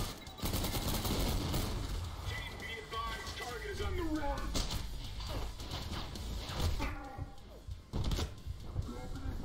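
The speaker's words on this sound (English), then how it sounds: "This SMG is really good." Submachine gun fire in the TREPANG2 video game: rapid bursts of shots over a busy mix of game effects and music, with someone speaking at times.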